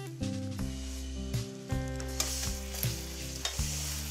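Camel meat kala bhuna frying in a pan gets a good stir, with repeated scraping strokes over a steady loud sizzle and a strong low hum in the background.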